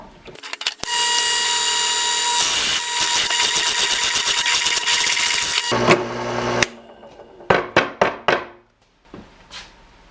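A loud, steady whine of a drill press boring a 1.5-inch hole through wood for several seconds, then the motor cuts off and a few knocks and clatters follow.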